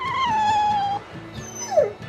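A dog whimpers and whines in the Tales of Berseria video game, a long high plaintive tone followed by a shorter falling yelp, close and clear with no talk.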